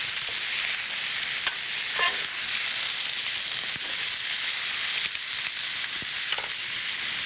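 Sirloin meat browns in a hot skillet with a steady, close, even sizzle and hiss that runs unbroken throughout, with no voices.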